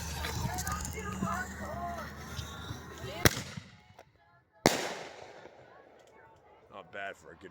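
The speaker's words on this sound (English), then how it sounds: "This one here is the Premium Artillery by Mag Value." Premium Artillery ball shell firework by Mag Value bursting outdoors: two sharp loud reports a second or so apart, the second followed by crackling, with background noise and murmuring voices before the first blast.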